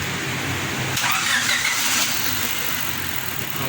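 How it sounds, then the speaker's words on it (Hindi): A Honda CF engine, just repaired for a misfire, is started and settles into a steady, loud running hum with a brief cranking burst near the start. "अभी हम आपको इसकी स्टार्टिंग चेक करवाएंगे।"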